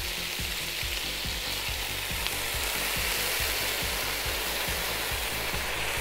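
Soy sauce sizzles in a hot frying pan with chicken and vegetables for a warm salad, a dense, loud hiss over a rapid, regular clicking rhythm, no talking.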